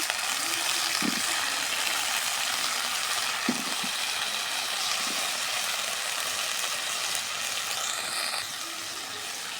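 Water pours steadily into a cooking pan holding pumpkin for boiling, making a continuous rushing splash throughout, with a few soft knocks.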